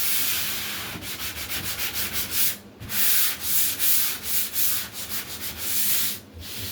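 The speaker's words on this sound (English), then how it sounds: "You take the sand sponge." Sanding sponge rubbed over drywall joint compound in steady back-and-forth strokes, a close, rhythmic scratchy rasp with brief pauses between passes.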